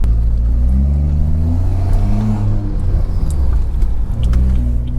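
BMW 340i turbocharged engine revving: a loud, close, deep rumbling drone with rising and falling pitch as the revs swing up and down, steady throughout.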